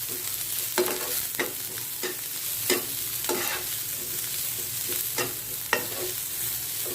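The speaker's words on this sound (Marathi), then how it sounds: "आपल्या भाज्या छान परतलून झाल्या आहेत" Vegetables and cabbage for noodles are tossed in a hot pan, a low steady sizzle broken by regular sharp scrapes and clinks of the spatula roughly every second.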